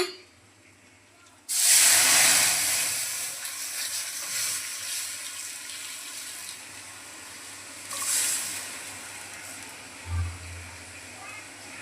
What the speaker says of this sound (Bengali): থেতো করে রাখা আদা, আগে থেকে লবণ হলুদ দিয়ে সিদ্ধ করে রাখা ডালটা দিয়ে দিচ্ছি